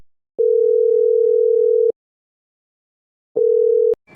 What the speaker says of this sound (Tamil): ஃபோன் அடிப்போம்